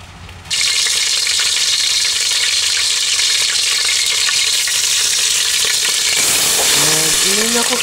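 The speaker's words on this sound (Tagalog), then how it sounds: "Inuna ko po yung pagpiprito ng baboy." Pork frying in oil in a deep pot begins with a sudden loud burst of sizzling that holds as a steady hiss, and near the end stirring and scraping noises join in.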